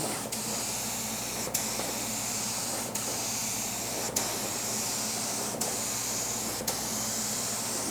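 A steady, close hiss of a spray gun laying a coat of candy paint runs without a break, with faint clicks every second or so as it passes back and forth.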